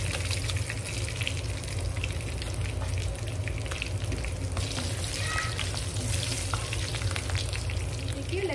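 Constant crackling sizzle of garlic, mustard seeds and dried red chillies frying in hot oil, close by, with faint scraping and popping throughout.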